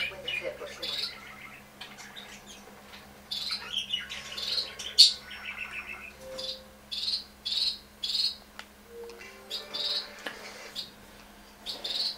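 Pet birds squawk and chirp in short repeated bursts near the microphone, layered over faint game sounds and background voices.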